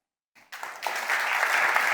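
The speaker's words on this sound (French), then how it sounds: "Un tonnerre d'applaudissements à Sylvain," Applause at a pharmacy software innovation conference swells quickly from a few claps into a dense, sustained ovation from a large crowd.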